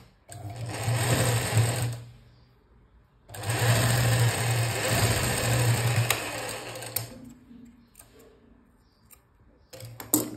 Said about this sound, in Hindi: उसी के ऊपर हमें दूसरी सिलाई लगा लेनी है